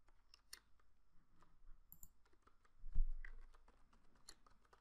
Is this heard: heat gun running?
no